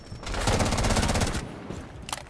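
Rapid automatic gunfire in the Rainbow Six video game, a loud, dense burst of evenly spaced shots lasting over a second, followed by a brief pause and a couple of sharper single cracks.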